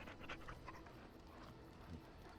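A dog in the video game Dragon Age: Origins pants in quick, rhythmic breaths with a soft whimper, faint and brief.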